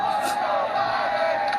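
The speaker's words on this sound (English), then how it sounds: "as you can hear the chants from the crowd" Political rally crowd chanting "let's go Brandon", a loud, dense roar of many voices shouting together, with no clear individual words.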